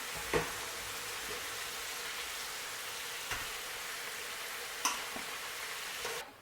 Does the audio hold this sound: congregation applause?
no